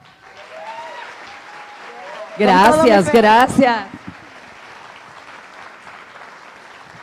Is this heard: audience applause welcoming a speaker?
yes